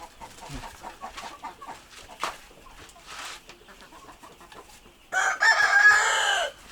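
Soft clucking from a broody hen and scattered chirps from chicks nearby, then a loud, sustained crowing-like call at the end.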